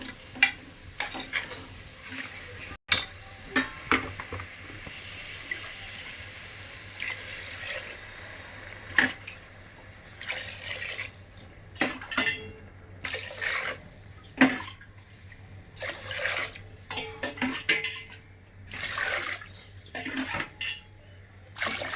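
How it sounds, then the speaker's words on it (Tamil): Water is poured by the tumbler into a pot for tomato rice in several separate bursts, mixed with clinks of the cup against metal cookware in a quiet kitchen. "மொத்தம் ஆறு டம்ளர் தண்ணி நான் இதில் இதில் அளந்து ஊற்ற போகிறேன்"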